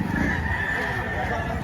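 Chickens are for sale at a poultry market, and a rooster crows amid clucking and steady crowd noise. Voices talk faintly in the background.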